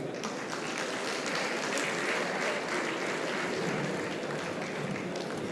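Sustained audience applause at an awards ceremony honouring industry legends, dense and steady clapping throughout with no talk over it.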